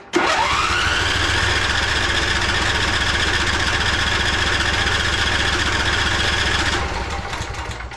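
Engine of a 2011 Craftsman PYT 9000 lawn tractor cranking: a loud, steady whirring drone with rhythmic pulsing that starts abruptly, holds for several seconds without catching, then winds down slightly.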